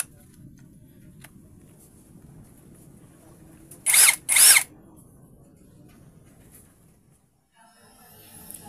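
Keelat cordless drill spinning in two short bursts about half a second each, close and loud, with a brief pause between, amid quiet background.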